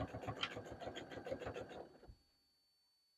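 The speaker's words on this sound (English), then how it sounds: "we're just going to stitch all the way down until we get to the other side" A sewing machine stitching a seam on a fabric burp cloth, running in rapid rhythmic pulses for about two seconds before stopping and falling into near silence.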